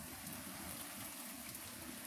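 Rain falls steadily at night, a soft, even hiss of drops with no breaks, fairly faint and distant.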